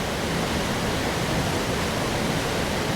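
Water rushing through the gorge at Rumbling Bridge, a dense, steady roar of falling and tumbling water, loud and unbroken from start to finish.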